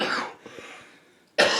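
A single cough bursts out at the start, followed by a quiet pause with faint small sounds, then another sharp cough at the end.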